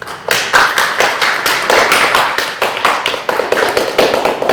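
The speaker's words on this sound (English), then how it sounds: "I'm going to give another round of applause." A small group gives a round of applause in a school setting: distinct, fairly even claps at close range, repeating steadily from start to finish with no voices over them.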